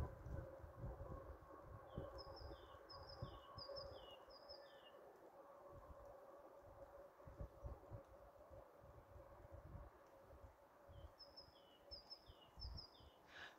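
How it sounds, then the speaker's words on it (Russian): Birds sing in repeated short bursts of high chirping phrases, moderately distant, over a low background rumble; the song returns after a quiet stretch. "Послушайте пение птиц, как поют птицы."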